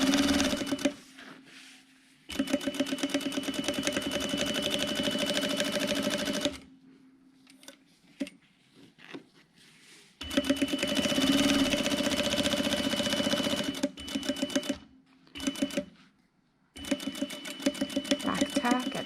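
Sewing machine running along the fabric edge of a pencil holder in several long bursts with short pauses between them, a steady close mechanical whir.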